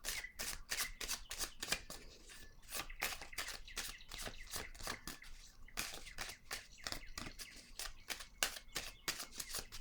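Tarot cards handled and laid down, a quick continuous string of soft slaps, riffles and flicks close up, low in level, with no voices.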